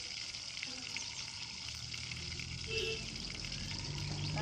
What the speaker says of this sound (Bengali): প্রথমে তেল দিয়েছি, তারপরে জিরে দিলাম